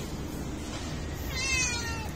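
A cat named Timmy gives a single drawn-out meow, clear and close, rising over low room noise near the end with no voices.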